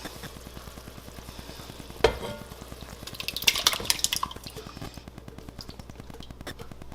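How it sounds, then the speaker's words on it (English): Whole canned San Marzano tomatoes go into a cast iron Dutch oven with a wet plop and splash, then a soft sizzle and bubbling beneath steady background hum, close and fairly quiet. "we're going to take our big can of Marzano whole tomatoes, and we're going to put them into this cast iron Dutch oven"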